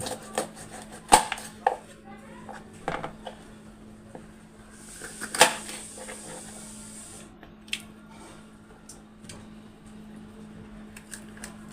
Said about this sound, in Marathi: मी मिरची कापून घेते.